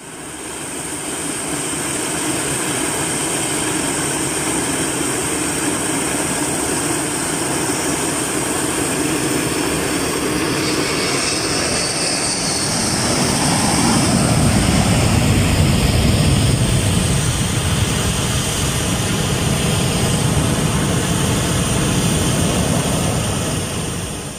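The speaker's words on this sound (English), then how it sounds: "This Aerosucre Boeing 727 crew making a very low pass and then retracting the landing gear while still not climbing." Aerosucre Boeing 727 cargo jet making a very low pass with its landing gear retracting, loud sustained engine roar and whine that swells to a rumbling peak midway and holds there.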